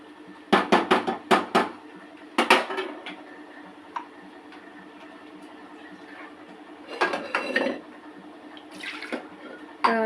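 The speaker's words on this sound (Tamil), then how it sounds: "கொஞ்சோண்டு தண்ணி, ஒரு டம்ளர் தண்ணி எடுத்து ஊற்றி" Water is poured from a tumbler into cooked lentils for hotel-style sambar rice, a soft running wash broken by a few sharp clinks of kitchen vessels near the start and in bursts later.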